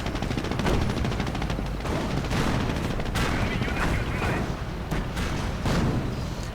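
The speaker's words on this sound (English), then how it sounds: "Recoilless rifles firing into the Panzer IV." Recoilless rifles fire on a Panzer IV in a World War II strategy game, a dense, continuous barrage of overlapping gunfire and booms that stays loud throughout, with scattered sharp cracks standing out.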